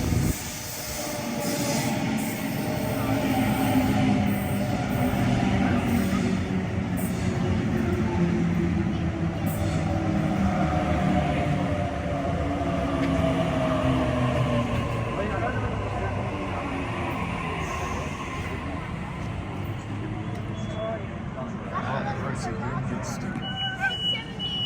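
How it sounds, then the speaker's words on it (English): A Sydney Waratah train pulls away from a station platform on an all-stations service to Homebush, a loud, steady rumble of rolling wheels and motors lasting throughout, with faint crowd babble in the background. "A78 now departing for all station service to Homebush"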